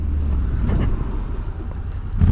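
A low, steady Honda NM4 Vultus motorcycle engine drone rumbles close by, with a deep exhaust note that swells briefly near the end.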